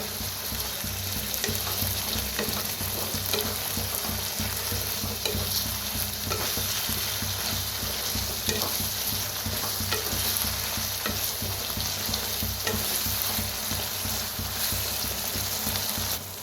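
Spicy brinjal masala is stirred in a hot pan, a constant sizzle and fry broken by repeated scraping strokes of the spoon, close and continuous.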